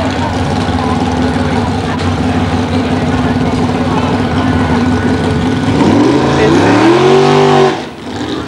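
A drag racing car launches into a short wheelie on the strip, its loud engine roaring steadily and then climbing sharply in pitch before cutting off, with a commentator's voice over it.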